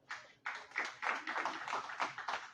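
Audience applause at a seminar on alternative media in Peru, welcoming a press network member to the podium: a burst of hand claps starting abruptly and continuing steadily, dense and fairly close, with no talk over it.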